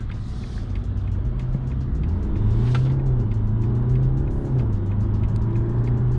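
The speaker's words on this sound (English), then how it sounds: "So as you can see, in sport mode I have awesome acceleration out of this vehicle." A BMW 520d, the Luxury Line five series diesel, in sport mode accelerates hard from a standstill with no launch control. A steady, loud engine drone rises in pitch through the revs, heard alone without talk.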